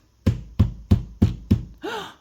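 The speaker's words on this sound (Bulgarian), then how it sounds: "Кой чука на вратата?" Five evenly spaced, loud knocks on a door, close and solid, followed by a breathy gasp-like vocal sound, with no speech.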